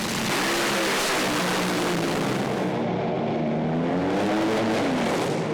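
Top Fuel dragsters race down the drag strip at Sydney Motorsport Park, producing a loud, sustained engine roar whose pitch sweeps upward as they accelerate.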